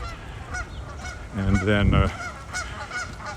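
Geese honking at Wascana Lake in Regina, a short burst of loud, nasal honks lasting under a second, over outdoor ambience while a person talks nearby.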